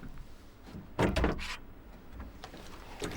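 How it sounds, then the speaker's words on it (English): The doors of a Roborock Saros Z70 robot vacuum dock are opened by hand, with a cluster of close plastic clicks and thunks in the middle, then lighter handling taps near the end, under a steady room hum. "You need to open these doors."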